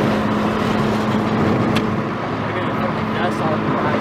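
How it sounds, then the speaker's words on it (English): A freshly engine-swapped Honda Civic, stripped of radio, door panels and back seat, cruises on a freeway with the window open, giving a steady broadband road and wind roar with a low engine hum throughout. "we on the freeway with the fucking Civic"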